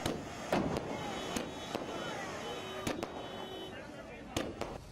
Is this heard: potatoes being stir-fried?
no